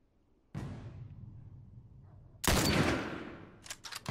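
Rifle gunfire in the video game The Last of Us Remastered: a single sharp shot with a long echoing tail, then a louder second blast, followed by several quick crackling impacts.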